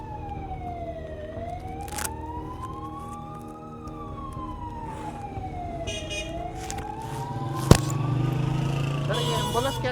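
An ambulance siren wails nearby, its tone rising and falling in a slow, steady cycle over continuous traffic noise, with a sharp bang partway through and people talking over it.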